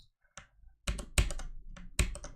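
Scattered clicks and clacks from someone pressing buttons on a computer keyboard, several sharp taps in uneven bursts with quiet gaps between, close and fairly loud.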